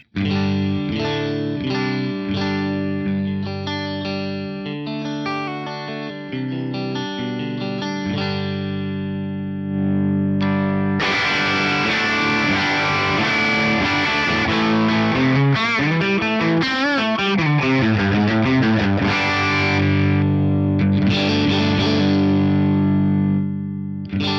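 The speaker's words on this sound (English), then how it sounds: "As the gain goes higher, it is going to morph into that high gain capture." Electric guitar through a Headrush Flex Prime playing continuously with effects, starting with a cleaner tone and growing into a thick, heavily distorted high-gain sound.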